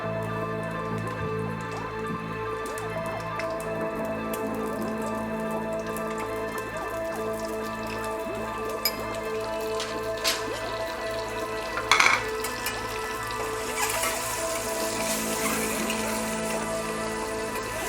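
Onions and tomatoes frying in a pan for egg masala, a soft continuous sizzle with scattered drip-like pops and a brief louder clatter near the end, close and without talk.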